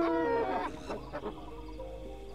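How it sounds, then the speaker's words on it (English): Large chickens clucking in the video game Ara Fell, with a burst of harmonic squawks followed by a few softer clucks over a steady game soundtrack hum. "Oh, that sounds like very large chickens."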